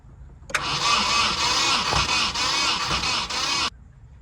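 An engine cranks steadily for about three seconds during a compression test on cylinder 2, a rhythmic whirring starter with pulsing compression strokes, loud and close, then stops abruptly.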